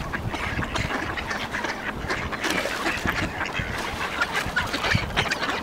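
Many ducks at a small duck farm quack loudly and continuously, a dense overlapping chorus close by with no pauses.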